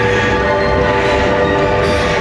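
A train rushing past without stopping, a loud, steady roar of wheels and carriages with a sustained horn-like tone throughout, close and continuous.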